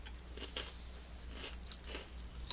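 Monster Mash cereal crunches faintly in a series of close, quiet chewing bites spaced about half a second apart, with no talking over it.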